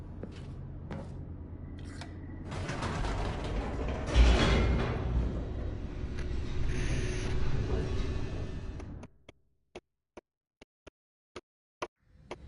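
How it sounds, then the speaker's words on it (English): An elevator descending in The Stanley Parable, a low mechanical rumble and rattle lasting several seconds, then cutting off abruptly into quiet broken by a few sharp, isolated clicks. "The elevator raced downward, plummeting towards an unknown fate."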